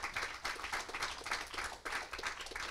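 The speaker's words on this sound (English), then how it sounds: "I think we should give him applause at the back" Audience applause at a crypto talk, a steady dense patter of many hands clapping together, sustained and fairly faint, with no voices over it.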